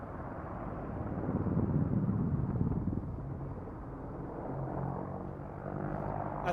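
A helicopter performing a pedal turn at a VE Day air show makes a distant, rumbling rotor and engine roar that swells and eases slightly as it rotates, heard alone across the airfield.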